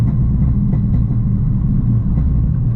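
A Hellcat Charger fitted with a swapped 6-speed manual gearbox, its engine giving a deep, steady low rumble and burble heard up close with no voices.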